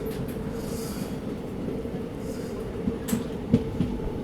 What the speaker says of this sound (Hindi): Special train, special treatment. Ayodhya cantt Vande Bharat.